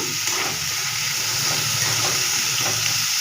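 Onion, potato and brinjal hitting hot oil in a pan, giving a steady, continuous sizzling hiss that stays even and close throughout.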